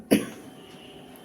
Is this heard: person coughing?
yes